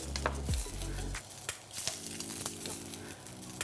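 Quail egg frying sunny side up in a pan, a steady close sizzle with crackling pops, and a low hum that cuts off early as a utensil scrapes against the pan.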